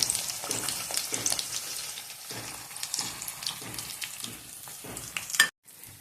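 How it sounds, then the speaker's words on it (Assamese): Indian olives (jalphai) frying in oil for a sweet jaggery pickle make a continuous close sizzle, with soft stirring scrapes and pulses, ending in a brief cut to silence. "এতিয়া জলফাইখিনি তেলত দি দিলো।"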